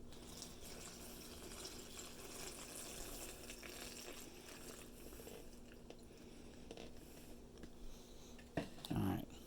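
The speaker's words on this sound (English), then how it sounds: "Here is our next 2 cups." Filtered water being poured into a container holding cold brew coffee pouches, a soft continuous trickle and slosh, faint and close, ending with a brief louder splash.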